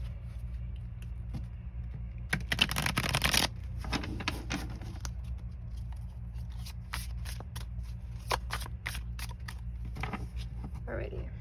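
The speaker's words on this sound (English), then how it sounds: "Going to shuffle the deck for you." Oracle cards are shuffled by hand in a riffle of rapid papery flicks, with more scattered card shuffling and handling sounds after, in a quiet room.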